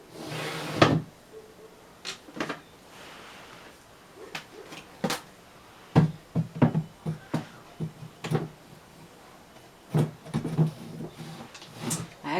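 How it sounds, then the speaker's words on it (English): Drawers of a DIY IKEA-style vanity dupe slid into the cabinet one after another, a series of close wooden thumps, knocks and short sliding scrapes in an irregular rhythm with quiet gaps between. "it doesn't matter which drawer you put in first"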